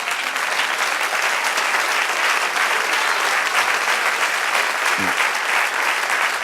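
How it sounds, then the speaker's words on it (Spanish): A church congregation applauds in a steady, dense wash of clapping that runs throughout, loud and even, with no clear voices on top. "Y un aplauso a ese que se lo merece."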